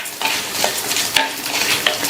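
Small onions with chillies and curry leaves frying in a pan, a steady sizzle with scraping stirs and occasional metallic spoon clinks against the pan, close and with no talk.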